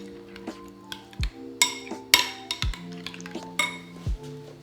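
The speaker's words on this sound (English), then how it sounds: "just give this guy a little mix" A utensil stirs ranch sauce with milk in a bowl, giving a quiet series of clinks and scrapes against the bowl, with several brighter taps spaced irregularly and a soft wet swish between them.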